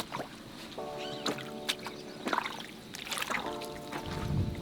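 Shoes wrapped in waterproof covers step down into shallow water, giving a few splashy sloshes and trickles spread across the moment, with a tonal hum in the background.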